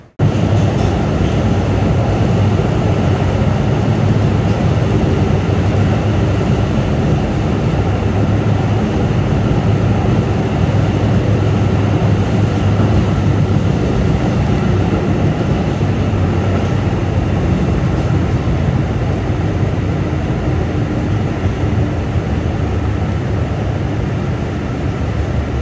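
A new R211S train on the Staten Island Railway, a Tottenville-bound local, rumbles loudly and steadily throughout, a continuous roar with no voices.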